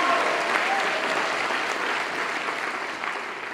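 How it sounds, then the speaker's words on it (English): A crowd at an honorees ceremony claps loudly, a dense, sustained roar of applause holding steady throughout with no break. "you got to clap real loud"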